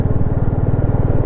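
Royal Enfield motorcycle on a mountain ghat road, its engine a steady, loud, close low thump with a regular pulsing beat throughout, the rider shifting slowly into second gear.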